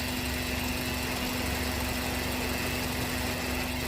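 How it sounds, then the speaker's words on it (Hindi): Steady mechanical hum and rattle from a headlight relay in a Hyundai Aura CNG car, heard over the idling engine, continuous and fairly loud with a constant buzzing tone throughout. "तो ये जो रिले है यहाँ पर साउंड क्रिएट कर रही है।"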